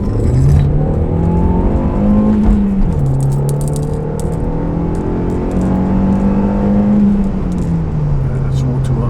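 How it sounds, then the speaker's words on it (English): A Euro muscle car accelerating from inside the cabin, its engine droning loudly and rising in pitch through gear changes, with small rattles and a voice talking over it. "Let's do a bit of a acceleration. See how it picks up."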